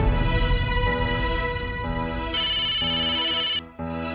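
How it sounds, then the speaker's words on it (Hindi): A phone ringtone plays loud and close as an electronic melodic tune with sustained tones and stepped changes in pitch, briefly cutting out near the end before resuming. "भिड़े अंकल का फोन।"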